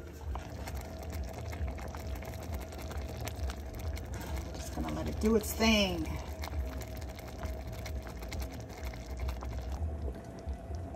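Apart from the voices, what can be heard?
tamarind sauce simmering in a pot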